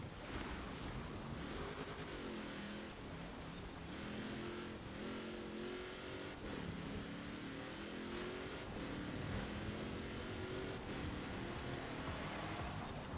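A 1973 Land Rover Range Rover engine in Forza Horizon on an autocross course, droning and revving steadily throughout with rising and falling pitch, loud and continuous with no talk.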